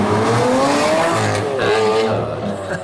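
Liberty Walk-modified Lamborghini Aventador supercar engine revving loudly up and down through a steady, close roar, with rising harmonic sweeps and a brief tire-squeal edge.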